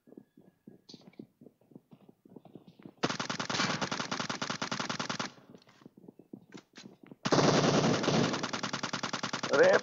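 Automatic gunfire in the mobile battle royale game PUBG Mobile comes in two long rapid bursts, loud and close, after quieter footsteps and small clicks, with no talk over the shots.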